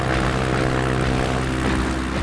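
Propeller aircraft descending toward a runway with gear down, a loud, steady droning engine hum held close and constant with no voices.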